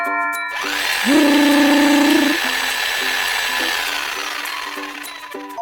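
Electric power drill whirring loudly, rising as it spins up and holding a steady whine for about a second before dropping to a lower hum and winding down, with no voices.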